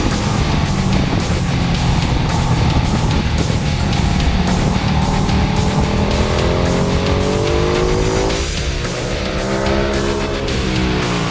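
A Ducati track bike screams hard under acceleration at the Mugello circuit, its loud engine note rising in continuous sweeping pitch climbs through the gears, with strong wind rush throughout and no talk.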